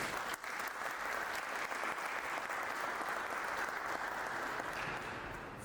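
Steady, dense applause from an audience honoring teachers at a golden and silver jubilee celebration of school graduating classes, sustained throughout and tapering slightly at the end.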